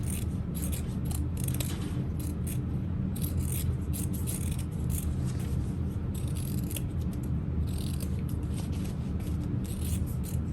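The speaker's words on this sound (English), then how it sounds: "I'll trim down my lining" Scissors snip and trim fabric lining while a small bowler hat is sewn, close-up cutting and rustling sounds with irregular crisp clicks of the blades, no voices.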